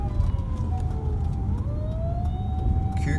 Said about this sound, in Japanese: 救急車と消防。